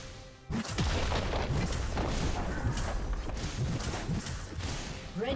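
A turret is destroyed in League of Legends with a sudden heavy boom that opens into a sustained rumbling crash. Sharp impacts and whooshes are scattered through the loud, continuous din.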